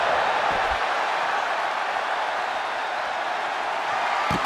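A wrestling video game arena crowd cheers steadily in a continuous broad roar, loud and unbroken, with a brief louder burst near the end.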